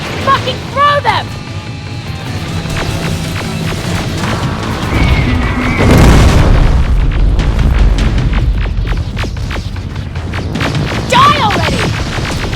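Grenade explosions in the shooter game Terminator: Resistance, a heavy booming blast in the middle amid ongoing combat noise, with loud shouting voices over it.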